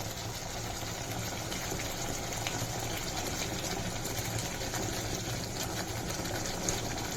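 Rohu fish pieces go one by one into spiced masala boiling for a Bengali rezala, giving a steady bubbling, frothy rumble with a constant hiss that runs evenly and fairly loud throughout, with no talking.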